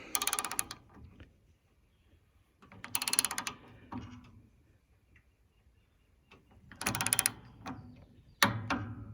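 A torque wrench set to 23 foot-pounds ratchets in short bursts of close, metallic clicking, separated by quiet gaps, with a sharper click at the end.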